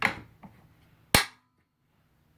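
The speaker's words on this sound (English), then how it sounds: "I'll go ahead and just ride the bolt for you." Bolt of a Remington 700 .308 rifle being worked up close, with a few light metallic clicks followed by one loud, sharp clack, then quiet.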